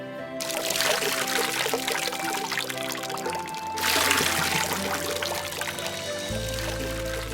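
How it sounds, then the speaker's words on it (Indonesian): Continuous splashing and trickling of a clear-flowing river, loud and close, with a surge partway through and a low rumble underneath. "Dia berjalan terus dan terdengarlah suara gemericik air"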